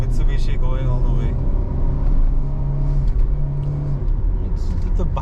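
A Mitsubishi Xpander on the road in Bangladesh: a steady low engine and road rumble holds throughout, with an occasional faint horn-like tone, under people talking inside the cabin.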